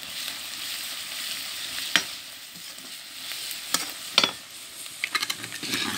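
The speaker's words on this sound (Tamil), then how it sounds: "வெங்காயம் இதெல்லாம் போட்டு வதக்கிக்கிட்டு இருக்கேன்" Steady sizzling of onions sautéing in a pan, with occasional louder crackles and the scrape of stirring, close by and without talk.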